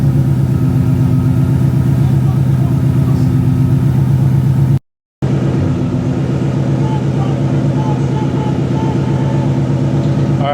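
A Ford Mustang GT fitted with a Whipple supercharger runs steadily on a dyno in a shop, a loud, continuous mid-pitched engine drone with a brief cutout partway through before the running resumes.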